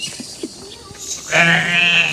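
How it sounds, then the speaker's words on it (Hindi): Beetal goats and rams being loaded for transport; after some faint knocks and shuffling, one goat lets out a loud, close, drawn-out bleat. "ये जी 11 मुंदरे हैं, 11 मुंदरे और 4 बकरे हैं"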